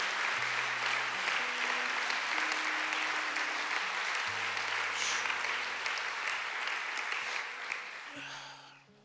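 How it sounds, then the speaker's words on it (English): A church congregation claps for the visiting preacher after the sermon, a sustained, even patter of many hands, with low tones from an organ or keyboard sounding beneath before the clapping fades. "can we clap for the prophet of God who brought us the word of God today?"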